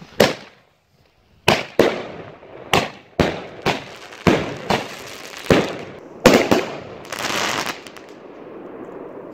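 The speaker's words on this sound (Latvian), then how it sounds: "Tas bija mūsu pirmais salūts ar 19 šāvieniem." A New Year fireworks salute of 19 sharp shots bursting one after another at uneven intervals, loud and close, ending in a crackling burst that fades out.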